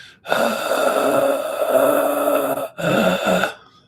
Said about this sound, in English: Ujjayi breathing is tightening your throat muscles in such a way that you make kind of a Darth Vader sound